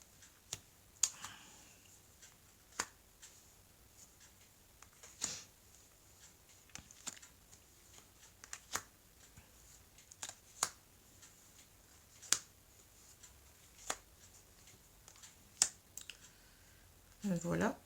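Tarot cards being spread out on a table, a series of light, sharp slaps and clicks at irregular intervals, close and fairly quiet, ending with a brief voice.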